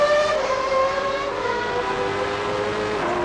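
Ayrton Senna's Formula 1 car at the Melbourne hairpin, heard on board as it accelerates away, a high, tonal engine whine rising steadily through the revs, loud and continuous, with no talking.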